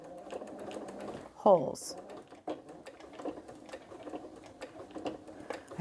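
A sewing machine runs steady stitches through a quilted Santa cookie rug in short rapid bursts, with a brief sharper clatter near the start, while a person talks over it.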